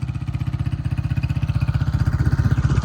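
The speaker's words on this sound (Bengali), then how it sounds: "বাইক এইখানেই অফ করবো" A motorcycle engine runs close by on a riverside outing, a rapid, evenly pulsing low-pitched chug that stays steady and fairly loud for a few seconds, with no voices.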